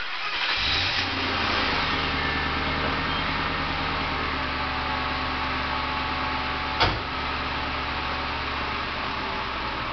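A 2000 Ford Crown Victoria LX with a 4.6 liter engine and dual exhaust, recorded close from ground level, cranks and catches, then settles into a steady, even idle with a brief sharp pop partway through.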